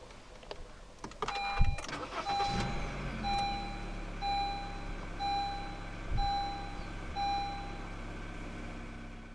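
A 2018 Honda Jazz 1.5 E started by push button, a short cranking catch settling into a quiet, steady idle while a dashboard chime beeps repeatedly at an even pace.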